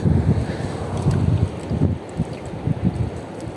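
Strong wind buffets a small wooden boat at sea, heavy low gusty rumble and microphone wind noise throughout, with no talk.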